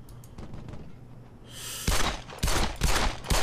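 Gunfire in the video game Brothers in Arms: Hell's Highway, with muffled distant shots at first, then loud, close bursts of rapid fire cracking repeatedly in the second half.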